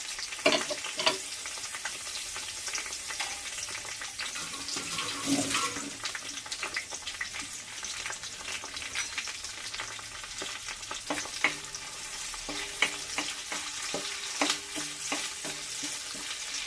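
Small dried fish, nethallu, frying in hot oil for a gongura curry: a bright, continuous crackling sizzle with frequent spits and pops and occasional stirring scrapes, close and steady, no speech.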